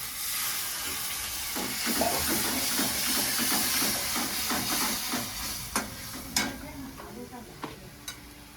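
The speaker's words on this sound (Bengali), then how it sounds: "আদার সামান্য একটু জল দিচ্ছি" A little water poured over frying ginger in a cooking pan, then steady hissing sizzle with rhythmic scraping stirs and a few sharp utensil clicks near the end, no voices.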